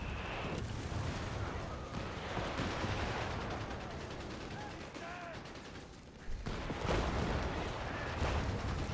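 Artillery barrage in Company of Heroes 3, a dense run of booming shell impacts and rumbling blasts layered with clattering battlefield noise, continuous and heavy for the whole stretch.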